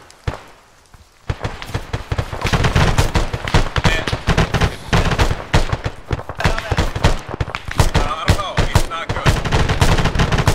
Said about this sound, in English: Suppressive fire, boys.